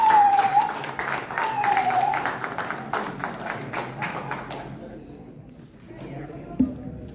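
Scattered applause from a crowd under ongoing talk, with a brief sharp knock near the end.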